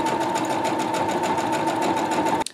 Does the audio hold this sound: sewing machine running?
yes